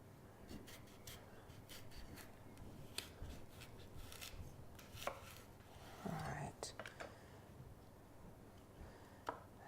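A kitchen knife slices a washed fennel bulb into thick pieces on a board, trimming away a hard section; the cuts come as soft, irregular chops and scraping rubs, close by and fairly quiet, with no one speaking.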